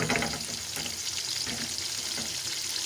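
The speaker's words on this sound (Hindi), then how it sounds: "इसको अच्छी तरह से भून लेंगे।" Onions, tomatoes and green chillies fry in a pan with a continuous, close, crackling sizzle that holds steady throughout, with faint stirring and no talking.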